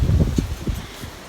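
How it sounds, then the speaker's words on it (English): Gusty wind blows across an outdoor allotment, buffeting the microphone in low rumbling bursts and rustles, fairly loud and close with no talking. "it's getting quite windy now"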